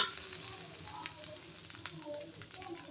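A fairly quiet, steady sizzle comes from spice paste frying in a pan after a splash of water is added while cooking a village-style chicken curry.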